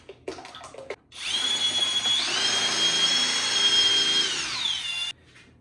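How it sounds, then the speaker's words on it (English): A power drill whirs for about four seconds, stirring a compound mix at a steady high pitch that dips slightly near the end, after a few light knocks and handling clicks. "I'm gonna mix it 30 seconds with the drill"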